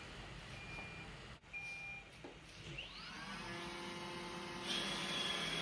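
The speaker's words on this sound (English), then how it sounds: "I will start a job now. It starts vacuuming." An iRobot Roomba 971 robot vacuum beeps a couple of short tones, then its motor winds up into a steady whirring hum that rises and settles into continuous vacuuming nearby.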